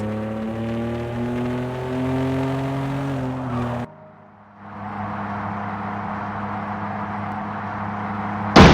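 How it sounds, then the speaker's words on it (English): Car engine in the FlexicX driving game revs and whines steadily, drops out abruptly, then settles into a lower hum before a sharp, loud crash burst at the very end. "That car crash seemed like a good bang."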